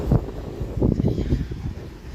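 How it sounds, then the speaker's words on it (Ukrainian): Gusty wind buffets the microphone in low, rumbling surges, close and uneven, with no talking. "Вітер, може ще й хлюпне дощик."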